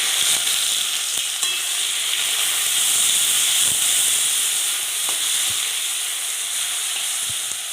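Onion frying in hot oil with dried chilli, whole garam masala and peppercorns for a methi chicken curry, a steady loud sizzle and hiss close up, broken by faint clinks of stirring.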